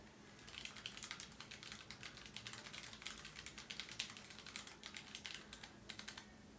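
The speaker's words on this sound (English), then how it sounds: "I'm gonna start typing, like, I'm gonna pretend I'm typing a blog post." Typing on a NuPhy NuType F1 low-profile keyboard that sits on a MacBook Pro, a steady stream of close, soft key clicks at a moderate pace with no talking.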